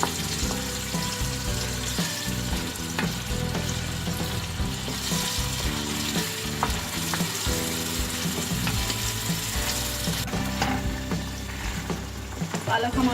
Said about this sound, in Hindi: पालक को अच्छे से भून लेना है मसाले में।